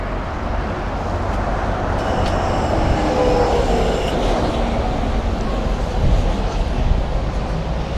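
Station ambience at Kaunas railway station on a Sunday during repair works, with a steady low rumble of rail and traffic noise throughout and no distinct passing train, no talk.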